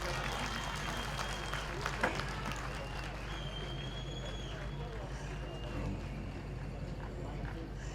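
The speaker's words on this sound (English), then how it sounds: "Give him a big hand of applause." An inauguration audience applauds a guest, a dense, sustained wash of clapping from a large crowd, steady and moderately distant, with voices murmuring underneath.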